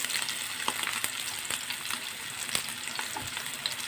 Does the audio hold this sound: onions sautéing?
yes